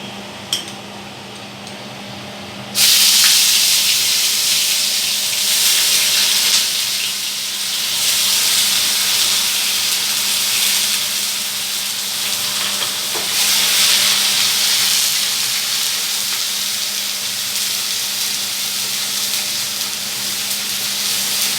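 Onion paste fries in a pan with a steady, loud broadband sizzle that jumps up abruptly after a quiet start, while a utensil scrapes and stirs through it for the rest of the clip.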